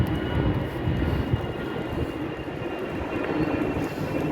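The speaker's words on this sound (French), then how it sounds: "c'est d'entendre ces avions qui atterrissent aux 3 minutes ou qui décollent aux 3 minutes" A jet airliner near Faro airport in the Algarve passes overhead, a steady broad roar that fills the whole stretch at fairly close range with no talking over it.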